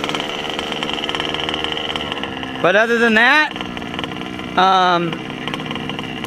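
A Taylor 35 engine, built for a Baja, idles steadily and loudly up close with a constant mid-pitched hum, while someone talks in two short bursts over it.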